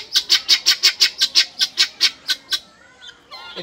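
An African fowl calls loudly and close by in a village, a rapid series of about fifteen evenly spaced harsh, squawking notes that then stop, followed by quieter chirps.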